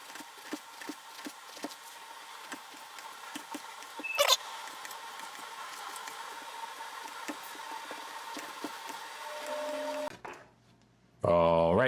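A knife saws through old, stale French bread rolls in a kitchen, making a steady run of dry, crunchy cuts close by. The cutting stops near the end and another noise follows.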